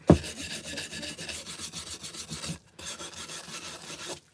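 A scraper rubs chippy paint off a wooden riser in steady, rasping back-and-forth strokes, close and fairly loud, with one brief pause before the scraping resumes.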